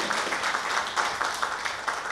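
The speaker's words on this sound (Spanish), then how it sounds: "Un fuerte aplauso nuevamente, por favor, para la disertación" Applause from a lecture audience after a talk on Afro-Peruvian history, a steady, dense wash of clapping at moderate volume for a couple of seconds.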